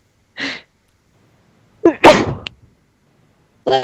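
A single sharp sneeze bursts out at a tabletop role-playing session, followed by a short pause and then another voice starting to talk.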